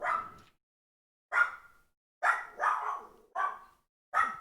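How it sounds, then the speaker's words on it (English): A dog barks six times in short, loud, separate bursts with gaps between them, the later barks coming in quicker succession, nearby and alone with no talk. "Sorry about the dog barking."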